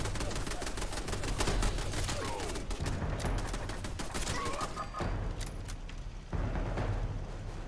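Turrets open fire in the video game Fallout 76, a dense, continuous rattle of rapid gunshots with sharp bursts layered over one another, loud and sustained with only brief dips in intensity.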